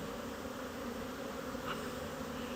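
Dense, continuous buzzing of many honeybees close by in an open, full hive, a steady droning hum with no pauses.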